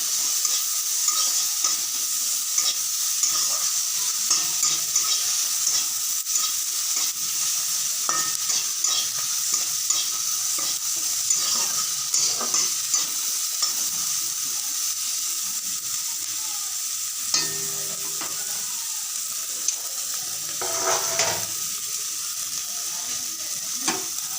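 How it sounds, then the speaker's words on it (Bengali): Chopped tomatoes fry in a pan on a gas stove, a steady hissing sizzle punctuated by stirring scrapes and taps, with a couple of louder clatters late on. "তার মধ্যে দিয়ে দিলাম আমি টমেটো কুচি। গ্যাসটা অন করে দিলাম, ভালোভাবে নাড়াচাড়া করে দিলাম।"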